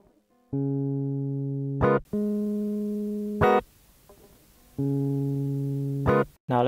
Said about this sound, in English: So let's start with the electric.